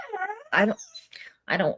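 A pet dog whimpers and whines nearby in a home during a live online reading, giving a few short high-pitched moaning cries with brief gaps between them.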